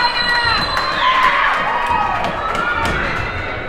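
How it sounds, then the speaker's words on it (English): A youth hockey crowd in an arena roars and cheers, a loud sustained swell of shouting and children's voices with a few thumps, alone without commentary. "And the crowd goes wild."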